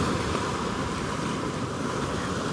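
Sea waves wash onto the shore in a steady, loud, unbroken rush of noise, with no voices.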